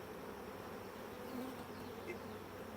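Honeybees buzz during a hive inspection, a faint, steady hum of many wings with a few brief louder passes close by, alone without talking.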